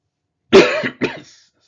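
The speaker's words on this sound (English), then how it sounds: "Just as I hit play, I coughed" A single close, loud cough in two harsh bursts, sounding partly like a throat clear, followed by silence.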